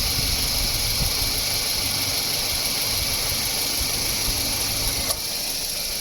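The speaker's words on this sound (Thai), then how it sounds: "เสียงคอมทำงานเงียบลงนะฮะ" A Toyota Wish's air conditioning compressor, with a newly replaced belt, runs with a steady mechanical whir and hiss, loud and close, a constant drone with a faint click near the end.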